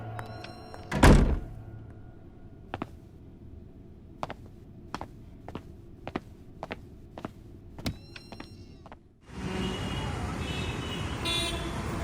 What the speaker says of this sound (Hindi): जाते वक्त दरवाजा बंद कर देना